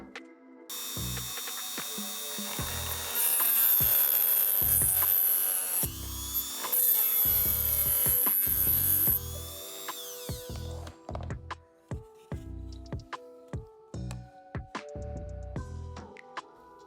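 A router trims excess plastic from a filament spool: a loud, high whine in sustained bursts, then a run of irregular clicks, knocks and rattles as the cutting stops and starts.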